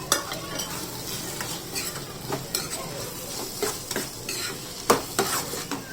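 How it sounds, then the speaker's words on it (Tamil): A tomato and coriander leaf mixture being stirred in a pan, with repeated quick scraping and clinking of a spoon against metal over a low sizzle, close up and with no one speaking. "இப்போ ஃபைனலாக நம்ம இந்த கொத்தமல்லி தழை எல்லாத்தையும் போட்டு நம்ம நல்லா மிக்ஸ் பண்ணிக்கலாம்."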